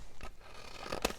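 Scissors cut across a folded bag in a few quick, faint rasping snips spread over about a second. The sound is quiet and close, with no talking.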